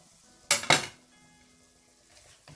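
A spoon scrapes and clanks twice in a pan while butter chicken filling is mixed with chopped coriander, followed by a faint sizzle and a soft clink.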